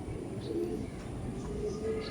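Giribaj pigeons cooing softly, low repeated coos over a steady murmur of background noise, faint and close together.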